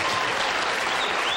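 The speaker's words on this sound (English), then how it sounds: "Maybe we could get the applause meter on Bob." Dense, loud applause from a television studio audience cheering for comedian Bob Hope, a steady wall of clapping close to the microphone with no speech over it.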